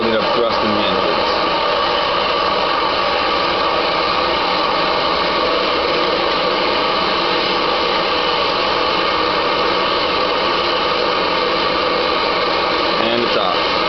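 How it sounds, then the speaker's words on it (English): A loud, steady engine roar holds constant throughout, a dense broadband rumble and whine with no pauses. "now the pilot is building up thrust in the engines."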